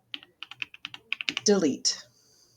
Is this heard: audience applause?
no